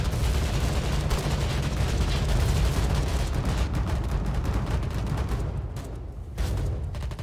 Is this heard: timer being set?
no